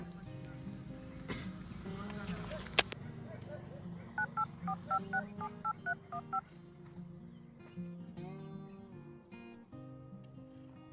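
A telephone number is dialed on a keypad, with a quick run of about a dozen evenly spaced touch-tone beeps, clear and close over background voices and noise.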